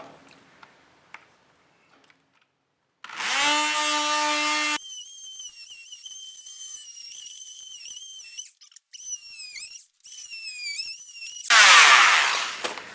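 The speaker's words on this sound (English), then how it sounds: "Okay, here we go with the oscillating saw." Oscillating saw cutting wood in a boat hull, a high whining buzz that starts after near silence and runs in bursts with brief pauses, then a harsher rasp at the end, loud and close.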